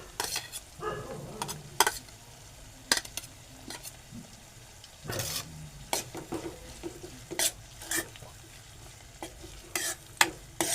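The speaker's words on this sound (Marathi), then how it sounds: "परतून घेऊ कांदा आपण चांगला." Onion with crushed green chillies stir-fried for an ambadi leaf bhaji, a low sizzle broken by sharp scrapes and clanks of a spatula against the pan at uneven intervals, close with no talking.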